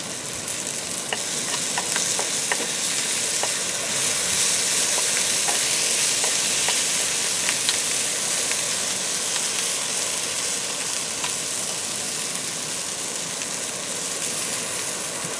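Moose meat and onions frying in a pan, a steady loud sizzle with faint crackles and pops throughout, heard alone with no talking.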